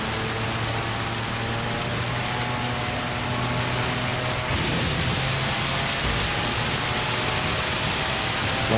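Extreme rain in the racing game Gran Turismo 7, a steady broadband hiss of heavy downpour lasting throughout at even loudness, with a low engine drone underneath and no talking.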